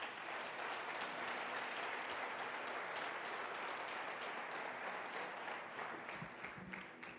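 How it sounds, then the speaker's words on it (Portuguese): A church congregation applauding, dense even clapping from many hands that holds steady throughout and tapers slightly near the end, with no voices over it. "aplauda ao Senhor Jesus novamente."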